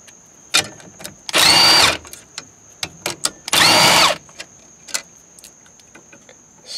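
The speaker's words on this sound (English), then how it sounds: "These are 3 11mm bolts here. Take those off." Two loud bursts of a power tool spinning out 11mm bolts from a steering wheel, each about half a second to a second long, separated by sharp clicks and clatter from the tool and parts nearby.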